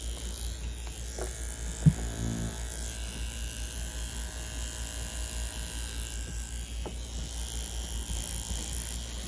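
Mummy C1 tattoo machine running with a steady, faint electric buzz, joined by a sharp click near the start and a few light ticks.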